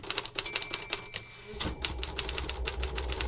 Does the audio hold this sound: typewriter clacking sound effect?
yes